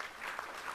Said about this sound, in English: Let's give our participants a round of applause for those opening comments.